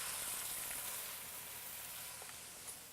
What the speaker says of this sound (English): So let me go ahead and get my veal in here.